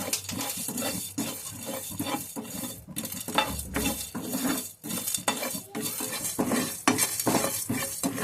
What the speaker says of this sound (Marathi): एक चम्मच धने आहे ते पण भाजून घ्यायचे सोबतच काळी मिरी सोप सगळे मसाले व्यवस्थित परतून घ्यायचे